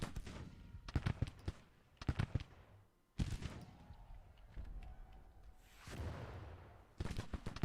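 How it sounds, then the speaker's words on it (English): Artillery fire in the Civil War strategy game Grand Tactician, with sharp booming cannon shots in scattered clusters, some doubled, over a dull rumbling battlefield background, moderately quiet with no talk. "They're trying to do some counter artillery fire on Daring's guns."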